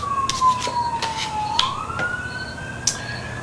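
A police car siren wails in a single gliding tone that dips slowly, then sweeps back up, steady and moderately loud over a soft background hum, with no one speaking.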